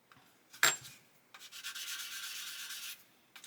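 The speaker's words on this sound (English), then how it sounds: "once we see our sanding stick sanding all the plastic, we know we got rid of the sink marks" Sanding stick worked over plastic parts of an Airfix 1/24 F6F-5 Hellcat model kit, a soft steady rasping stroke lasting about a second and a half after a sharp tap, close and fairly quiet.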